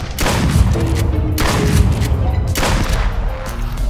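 Virtual-reality gunfire in the duck-hunting game Duck Season, loud shots cracking out in quick irregular bursts over a dense rumbling backdrop.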